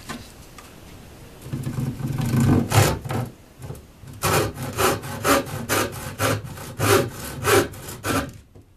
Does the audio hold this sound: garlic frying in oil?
no